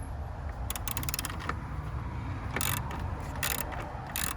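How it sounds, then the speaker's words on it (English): A 10 mm socket ratchet loosens the battery terminal bolt on a 2020 GMC Sierra Denali, giving close, bright bursts of rapid clicking in several separate runs, with pauses in between. "I'm going to start off with just using my socket set of a 10 millimeter"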